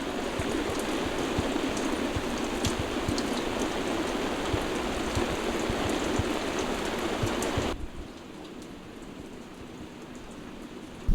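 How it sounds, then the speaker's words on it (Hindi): Steady rain falls on a field of young, low crops, a dense even hiss of drops that runs loud for most of the stretch, then abruptly drops to a softer, quieter patter near the end. "छोटी छोटी फसल पे बारिश हो रही है"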